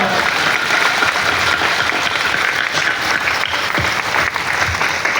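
A Catholic congregation at a priestly ordination in Dorma claps together in a loud, dense, sustained round of applause that stays steady throughout.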